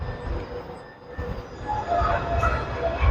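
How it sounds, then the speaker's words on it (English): A tram rolls away along the tracks, wheels rumbling and squealing faintly as the sound swells slightly. "So guys, that's the tram, and it has left."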